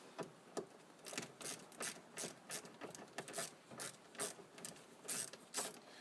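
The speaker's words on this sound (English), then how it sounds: "I'm using a ratchet, 1/4" drive ratchet." A 1/4-inch drive ratchet loosening 8mm bolts while a Saturn L-series speaker is removed, rapid clicking bursts repeated in a steady back-and-forth rhythm, close and fairly quiet, with no talk.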